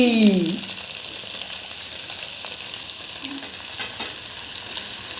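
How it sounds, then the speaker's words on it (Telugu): Ponnaganti greens frying in a pan give a steady, even sizzle throughout, with a brief clatter and a faint tonal sound at the start. "ఇదిగో మేము వండుతున్నాము పులగంటి కూర ఫ్రై"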